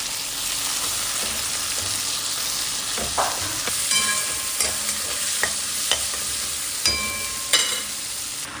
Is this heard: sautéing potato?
yes